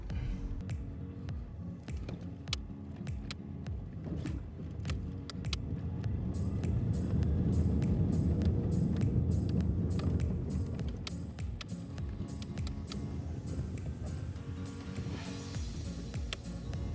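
Car driving slowly around the Imo State University campus in Owerri, a steady low engine and road rumble throughout that swells a little in the middle, with faint clicks and rattles over it.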